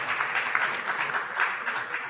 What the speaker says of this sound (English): Big applause for Rabbi Yehuda Kaplun.